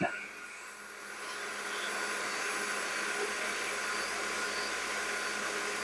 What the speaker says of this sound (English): I'm going to go up to level 3 on the gun. Get a little more heat.